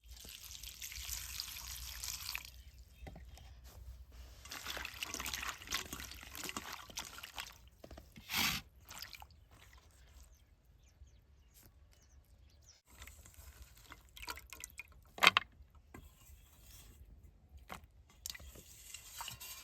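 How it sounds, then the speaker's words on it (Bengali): Cleaned dried fish being rinsed under running water for a mash, with a quiet, uneven trickle and splash that swells and fades, plus a few sharper clatters of handling. "মাছটা আমি পরিষ্কার করে ধুয়ে নেবো।"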